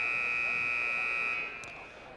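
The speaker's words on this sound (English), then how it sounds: "And now they're just hitting the buzzer." Basketball shot clock buzzer at a 6A state boys playoff game between Springdale and Cabot: a loud, steady electronic horn sounds continuously for about a second and a half, then fades down over faint gym background.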